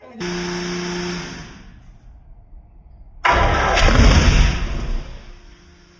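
A new 632 engine cranks and fires up, roaring loudly for about two seconds before it stops. Moments later it lights again with a louder, rougher burst, then settles and fades.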